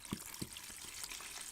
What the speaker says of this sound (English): I've poured in my water.